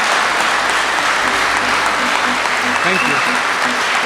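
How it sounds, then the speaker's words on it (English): Webinar audience applause fills the whole stretch as steady, dense clapping, with a voice briefly speaking over it. "So, round of applause"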